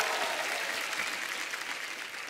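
A studio audience gives a short burst of dense applause, steady clapping from a crowd that tapers slightly over about two seconds.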